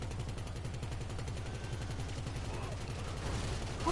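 Rapid gunfire in the video game GTA 5: a steady, fast-repeating rattle of shots held at a low, even level throughout, heard fairly faint and distant under the game's mix.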